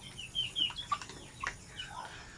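Young Basilan native chickens cluck in a few scattered, quiet calls, small bursts spaced irregularly over soft background noise.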